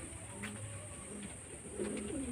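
Madras pigeons kept at home coo softly in a few low, repeated notes over a steady background hum, with no talking.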